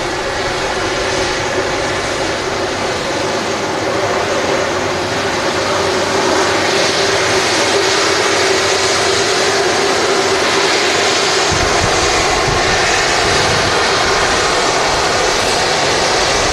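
A Freebird Airlines airliner taxis out at Manchester Airport with a loud, steady jet engine roar and whine that holds unbroken throughout, heard from fairly close by.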